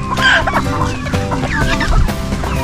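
Chickens and roosters at a Filipino poultry farm, a dense chorus of close, loud clucking and squawks layered over one another, with no talking.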